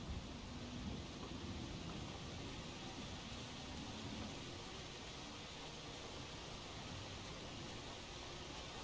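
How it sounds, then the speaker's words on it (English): Steady rain with low thunder rumbling in a horror survival video game, a dense, constant wash of downpour that stays loud and even throughout with no talking. "It's been raining a lot lately in the game."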